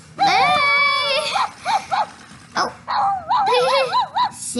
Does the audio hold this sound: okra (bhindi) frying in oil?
no